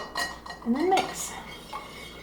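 A spoon stirs an agave-sweetened drink in a cup, with several quick clinks and scrapes against the sides, close and fairly clear, then fading to quiet.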